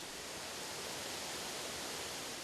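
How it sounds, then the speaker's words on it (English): A steady, dense rush of falling water from a hot spring waterfall in Jordan fills the whole clip, loud and unbroken, heard from close by. "It is the only hot spring waterfall in the world."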